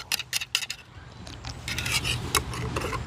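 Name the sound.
stirring MRE drink powder in a cup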